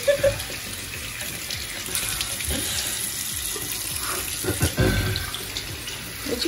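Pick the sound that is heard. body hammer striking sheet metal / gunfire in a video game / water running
water running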